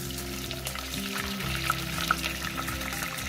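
Chicken pieces fry in hot oil with cumin, giving a steady close-up sizzle with a low stirring rumble and occasional small pops.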